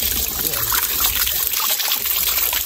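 Cold spring water trickles and splashes nearby in a steady, unbroken stream, with no voices.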